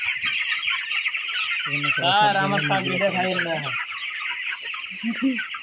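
Hens clucking and squawking nearby at a broiler chicken market, a burst of loud, harmonic cackling calls in the middle, with busy background chatter and noise of a crowded market.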